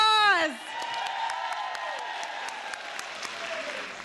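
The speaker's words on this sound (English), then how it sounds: "Give yourselves a round of applause." A voice trails off and a room full of people breaks into steady, sustained clapping with a few scattered cheers.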